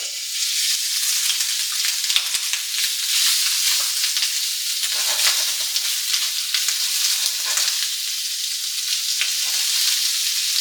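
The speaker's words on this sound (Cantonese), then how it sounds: "蝦仁啱先已經撈到佢起膠㗎啦，而家我哋擺落嚟煎佢" Shrimp sizzle and fry in a pan over medium heat for a Cantonese scrambled egg stir-fry with yellow chives. A dense, steady crackle runs throughout with no one talking.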